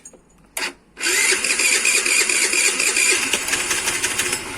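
A Gusto moped engine fires up after a complete rebuild, first a brief cough, then a loud, steady buzzing run that continues at close range with slight throttle wavering.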